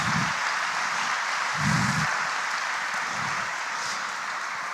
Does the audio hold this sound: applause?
yes